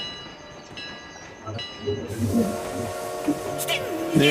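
A train rumbling and clattering along in an online multiplayer video game, with tonal game sounds layered over it, steady and moderately loud, while players talk excitedly throughout.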